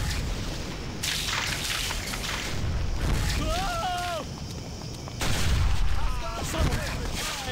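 Booming explosions and gunfire in Stubbs the Zombie, scattered heavy blasts and shots with chirpy electronic warbles between them, under occasional voices.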